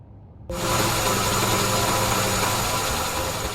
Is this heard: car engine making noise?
yes